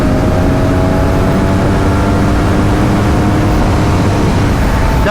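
BMW R NineT Scrambler motorcycle accelerating on the road, its exhaust giving a steady, loud engine roar with a continuous low rumble and wind noise throughout, with no speech.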